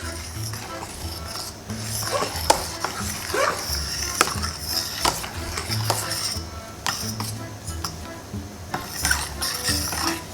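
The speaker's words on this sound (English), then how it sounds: "And then you stir so that everything will dissolve." A utensil stirs milk into an egg mixture for a Russian-style Napoleon cake, giving steady clinks and scrapes against the bowl with scattered sharper taps, close and fairly loud throughout.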